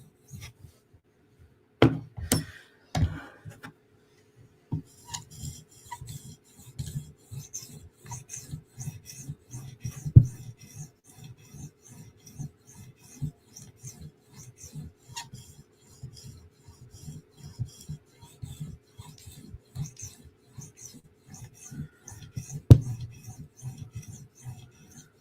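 A Chris Reeve Umnumzaan tanto knife is drawn across a 5000 grit sharpening stone. The soft strokes come in a steady, repeated rhythm, with a few sharper knocks in between.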